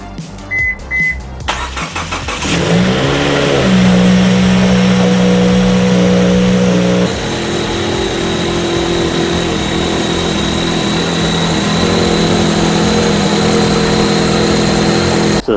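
A 2017 Subaru Forester XT cranks briefly and fires, jumps to a high rev, then settles into a steady idle before the engine note shifts as the car creeps forward, loud and close throughout.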